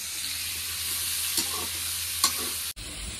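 Onions fry in a pan with a steady, close sizzle, and two brief scraping stirs come through before the sound cuts off abruptly.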